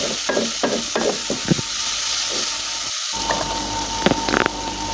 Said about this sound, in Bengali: মশলাটা ভালো করে মশলাটা আমি কষিয়ে নিচ্ছি